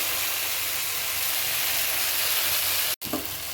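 Water is poured into a hot frying pan during home cooking and gives off a loud, steady, close steam hiss, then a brief cut and a short burst of sizzle.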